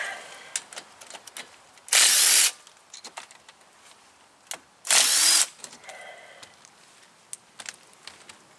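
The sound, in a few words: power tool removing brake caliper bolts on Toyota RAV4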